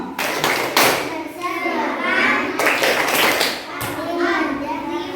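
Children clapping along in a classroom clapping game, short bursts of claps mixed with a voice and group talking.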